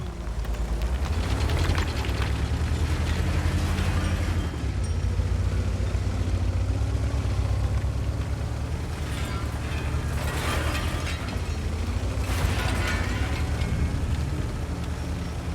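Tank cannon shots in World of Tanks from the Vipera, firing at about 150 meters: two sharp, loud blasts a couple of seconds apart over a steady, droning engine rumble and mechanical clatter.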